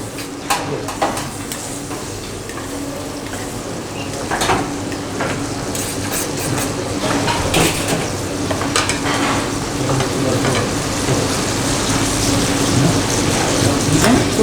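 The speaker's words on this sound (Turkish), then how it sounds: "Tereyağımız aşağıda kızarıyor" Steady, loud sizzling of butter frying in a pan, a continuous crackle with occasional sharper pops and light clinks, no voices.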